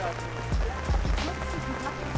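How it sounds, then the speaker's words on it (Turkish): Heavy rain falls on a street in Görlitz, a steady hiss of drops on pavement with a few low thumps of footsteps, while someone talks over it. "Aşırı fazla yağmur yağıyor."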